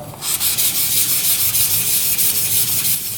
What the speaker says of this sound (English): then we grab some sandpaper